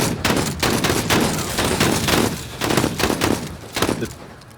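Loud, rapid bursts of automatic gunfire in a video game crackle close and continuously, in several volleys with brief gaps between them.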